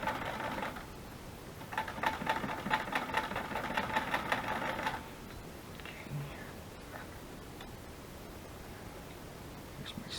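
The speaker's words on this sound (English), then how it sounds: "I love my sewing machine." A sewing machine runs in two bursts of rapid mechanical stitching, then stops, leaving a quiet room with faint handling noises.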